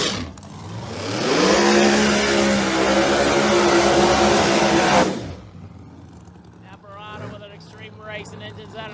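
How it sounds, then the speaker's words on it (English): A supercharged ProMod Ford Mustang drag car with a Carl Stevens racing engine roars loudly down the strip for several seconds, then cuts off, leaving quieter crowd and track noise while an announcer talks over it. "Racing engines out of the Carl Stevens shop in a Pro Charger, making the extra power on that baby."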